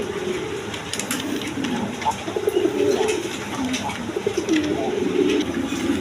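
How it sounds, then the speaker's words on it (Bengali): Big red Indian Bombai pigeons offered for sale coo steadily and close by, their low rolling calls repeating over a noisy background for several seconds. "ইন্ডিয়ান বোম্বাই কবুতর রেড কালার, মাত্র 2000।"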